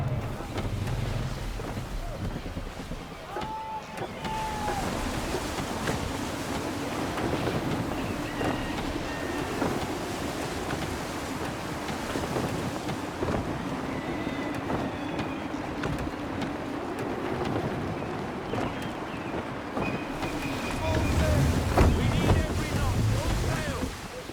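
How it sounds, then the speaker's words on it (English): Gusty wind rushing over a sailing ship at sea in Assassin's Creed III, a steady broad roar with creaking and water wash, wind buffeting the microphone and swelling louder near the end. "Gusty winds can be difficult to manage"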